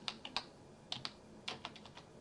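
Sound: typing text on a computer keyboard

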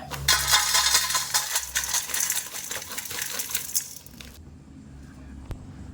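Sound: crispy fried raw banana mixture poured into a basin

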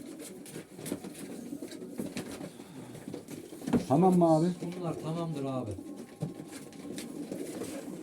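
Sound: pigeons cooing

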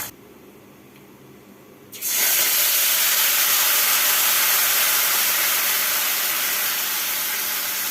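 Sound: amla frying in hot oil with whole spices

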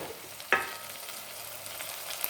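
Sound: green peas and brinjal curry being stirred while frying

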